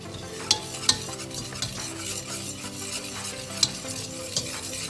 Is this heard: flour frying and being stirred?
yes